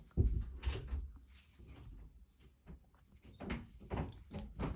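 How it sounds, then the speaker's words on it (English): Doors in a house opening and closing, several dull thuds and knocks, muffled and moderately near, with a gentle rustle between them and no talking. "I do apologise if you can hear doors."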